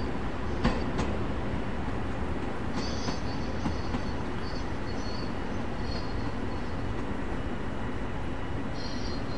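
A Long Island Rail Road commuter train runs steadily with a continuous loud rumble of wheels on track, joined by a few brief metallic clacks and faint high squeals, and no talking.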